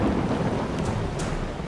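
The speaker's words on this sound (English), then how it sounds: "I think there's a storm happening." Thunderstorm at night during a drive, with heavy rain and a dense, loud roar of rumbling thunder that fills the whole moment steadily, no voices present.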